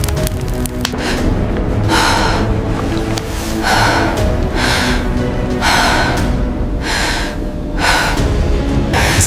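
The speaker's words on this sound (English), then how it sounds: "When the faint breath of the fallen sounded again" A wounded, fallen man breathes in slow, heavy, rasping pulses, roughly one every second or so, steady and prominent over a dense rumbling background.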